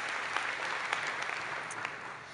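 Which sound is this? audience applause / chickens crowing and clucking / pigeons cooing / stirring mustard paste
audience applause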